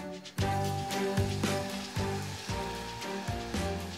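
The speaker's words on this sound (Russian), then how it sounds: "Мука со сливочным маслом обжарилась, добавляем постепенно молоко." Cold milk poured into a hot butter and flour roux for béchamel sauce sets off a sudden, loud sizzle that keeps hissing, swelling in repeated pulses as more milk goes in.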